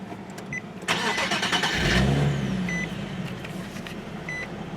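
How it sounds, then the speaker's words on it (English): A 2013 Nissan 370Z's 3.7-liter V6 engine cranks briefly via push-button ignition and catches, settling into a low, steady idle rumble nearby; no voices. "let's go ahead and fire it up and see how it starts, or see how she sounds"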